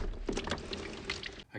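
Used engine oil drains from the sump of a BMW N20 2-litre petrol engine, a short, faint, continuous pouring trickle into a container that cuts off abruptly at the end.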